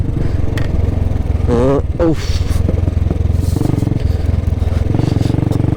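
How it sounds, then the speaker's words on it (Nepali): A Royal Enfield motorcycle ridden along a mountain road in the Jumla region of Nepal, its engine thumping steadily and loud throughout, with a rider's voice talking over it at times. "बाइकको साउन्ड पनि बबालै आइरहेको छ"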